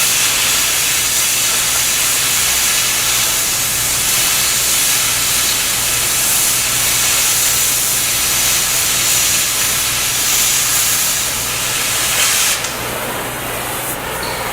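An oxy-acetylene torch cutting metal gives a loud, steady roaring hiss with a low rumble underneath, continuing for several seconds before it shifts and drops slightly at the end.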